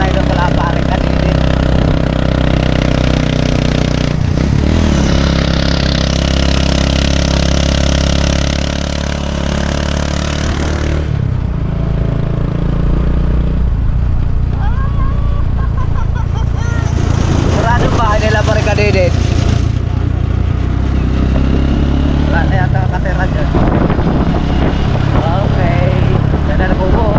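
A motor tricycle engine runs steadily at a low idle, a continuous rumble that continues throughout while people talk over it.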